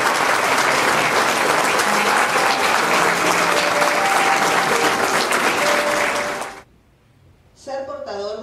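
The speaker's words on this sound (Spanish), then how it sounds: "Un fuerte aplauso para todos ellos." Sustained, dense applause from an audience at a graduation ceremony for institute graduates, steady and loud for about six seconds before cutting off, followed by a voice starting to speak.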